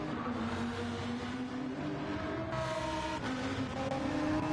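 A race car engine keeps running in the Flatout racing game on the Deep Forest track, a steady droning hum with shifting tones and a slight pitch change partway through.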